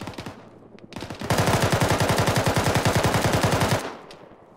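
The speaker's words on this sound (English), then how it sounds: "Hang on, I'm gonna put some rounds in it." Rapid automatic gunfire in a jungle trench combat game, a couple of single shots followed by a long sustained burst of fire into a shed, loud and close, ending abruptly with no talk.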